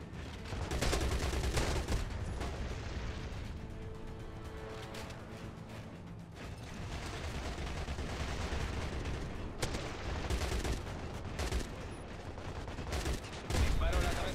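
Gunfire in the first-person shooter CrossFire X, with repeated bursts of rapid automatic shots and sharp single reports over several seconds, loud and dense with in-game battle noise.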